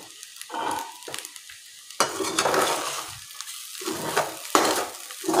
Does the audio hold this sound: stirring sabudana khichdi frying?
yes